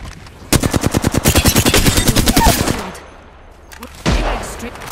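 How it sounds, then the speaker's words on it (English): Rapid automatic gunfire from the video game Horizon rattles out in a dense, loud burst lasting about two seconds, followed by a quieter lull and a fresh blast of weapon noise. "Opening fire."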